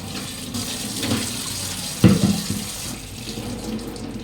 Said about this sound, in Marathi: आपण मस्तपैकी नळाखाली भांडी धुवून घेऊया